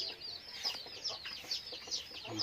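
Hens cluck in a low-cost poultry shed fitted with egg-laying boxes, repeated short calls at a moderate distance with a soft background hum and no voices.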